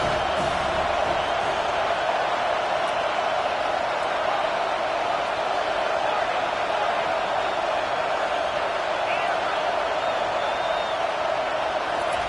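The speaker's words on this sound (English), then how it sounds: "Listen to this crowd just shaking the girders of this place trying to help their defense." A football video game crowd roaring to support the home defense, a dense, steady wall of cheering voices that holds at an even loudness throughout, with no clear talk over it.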